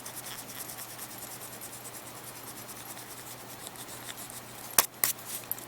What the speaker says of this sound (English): you flip it over and you just erase